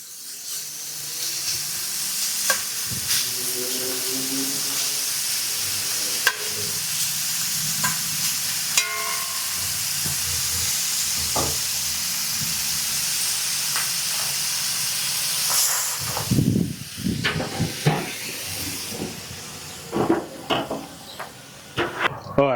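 Ground beef and bacon sear in a cast iron skillet with a steady, close sizzle and hiss, stirred now and then with scraping utensil knocks and clatter, louder busy handling near the end.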